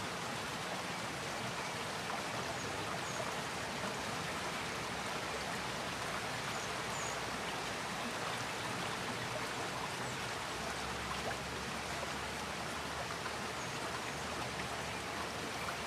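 Water rushes continuously where a river begins in Rhode Island, a loud, even hiss and roar that holds steady throughout with no voices over it.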